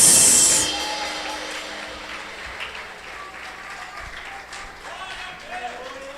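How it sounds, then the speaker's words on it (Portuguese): A church congregation claps together during a worship service, the applause loud at first and then quickly thinning to softer scattered claps beneath a pastor speaking. "Pode ser melhor essas palmas, hein?"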